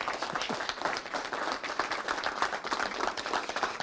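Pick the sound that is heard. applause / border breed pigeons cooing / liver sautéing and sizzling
applause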